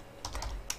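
A brief patter of computer keyboard keys, three or four soft close clicks over a low background hum.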